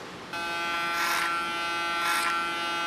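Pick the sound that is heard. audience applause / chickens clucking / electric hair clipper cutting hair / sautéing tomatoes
electric hair clipper cutting hair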